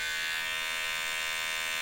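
A Kemei electric hair clipper buzzes steadily at lower RPM, a continuous close motor whine with the blade vibrating unevenly, running alone without talk.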